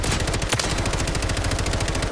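The FJX Horus submachine gun in Call of Duty: Warzone's firing range, fitted with a conversion kit, rattles out a single loud, rapid, steady burst of automatic fire lasting about two seconds.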